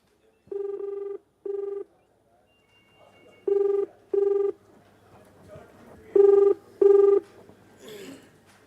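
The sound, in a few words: telephone ringing while placing a call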